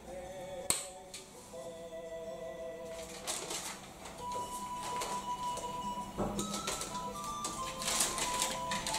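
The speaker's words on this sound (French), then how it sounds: "nous allons ouvrir cette belle petite boîte et choisir une vitole" A small box of Oliva Serie V Melanio Robusto cigars handled and opened, a sharp snap near the start followed by soft clicks, rustles and light wooden taps, close and quiet with no speech.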